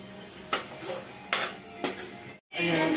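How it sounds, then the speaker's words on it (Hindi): Pots and pans clank in a kitchen while spices fry, with three sharp metallic knocks spaced about a second apart over a low background hum and a brief cut near the end. "शुक्ला भैया मसाला फ्राई कर रहा है"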